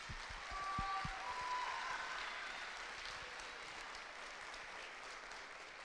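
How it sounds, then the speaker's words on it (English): Audience applause for student musicians at a middle school band concert, heard from a distance as a moderate, steady patter of clapping that fades slightly toward the end, with a few louder low thumps near the start. "If we could please give a round of applause for those students."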